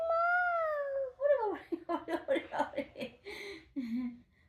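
A voice imitates a cat, giving a drawn-out, wavering meow, then goes on babbling and talking in a playful tone.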